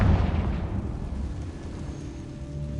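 A Confringo fire spell from Hogwarts Legacy blasts apart a barricade with a loud booming burst at the start, then a rumbling decay that trails off and lingers as a low roar.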